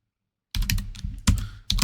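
Keys on a computer keyboard are struck close up: a cluster of sharp clacks, then two more distinct presses, with no talking.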